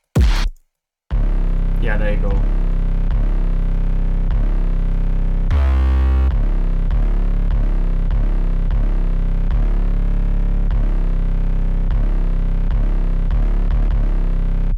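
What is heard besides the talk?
808 bass pattern for trap metal breaks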